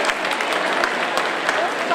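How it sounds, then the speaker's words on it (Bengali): An audience at a celebration applauds an honored artist with a dense burst of clapping, steady and loud for the whole moment. "জোরে একবার হাততালি হয়ে যাবে তার জন্য।"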